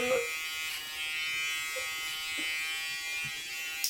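Faint, steady buzz of electric hair clippers in a clipper over comb haircut, running continuously with small clicks of the comb and brief murmurs in the background.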